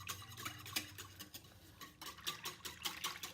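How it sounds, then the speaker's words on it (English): A hand whisk scrapes and clicks against a pot of hot process soap, giving irregular quick metallic taps and swishes at close range, fairly quiet, with no one speaking. "we'll see how long it actually takes to whisk a hot process soap"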